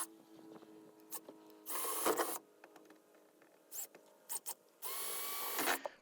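A handheld power drill bores out holes in the bed of a Ford F-150 pickup, coming in several short whining bursts of a second or so each, separated by quieter pauses and small clicks.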